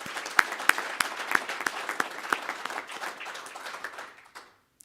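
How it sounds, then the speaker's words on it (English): A conference audience at a biomass industry event breaks into a round of applause, crisp individual claps standing out from a moderate crowd patter that thins and stops near the end. "let's give ourselves a round of applause"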